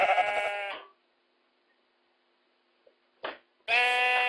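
Sheep bleating in a video game village, two loud drawn-out bleats at the start and end separated by near silence, with a couple of brief soft clicks in between.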